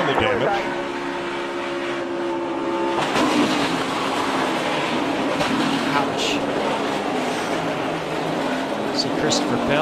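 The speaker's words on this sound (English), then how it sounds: "Oh, cars got loose, spun some tires, contact." Race cars at the February 2020 Daytona 500 lose grip, spin their tires and make contact: a steady engine drone gives way after a few seconds to a loud, broad roar, with a voice speaking over it.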